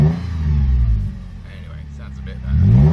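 A Toyota FJ Cruiser fitted with a new performance exhaust revs up hard, eases back to a low idle rumble, then climbs into a second rising rev, all deep and close.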